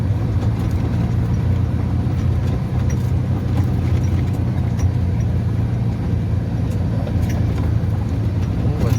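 An old truck drives slowly in third gear along a potholed road to a stone quarry, its engine droning in a loud, continuous low rumble with cab rattle and road noise.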